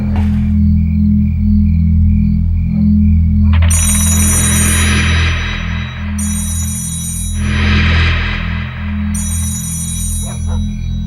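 A telephone rings in repeated electronic bursts, three rings spaced a few seconds apart over a steady low hum, with no talking.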